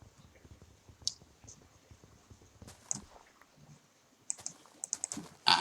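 Rapid keystrokes on a computer keyboard typed with fingerless-gloved hands, light uneven clicks in bursts with a short pause, then a quicker flurry of sharper taps at the end, close and quiet.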